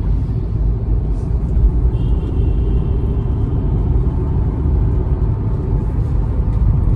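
A Kia Carens seven-seater with a heavy engine is being driven, heard from inside as a constant loud road and engine rumble with no break.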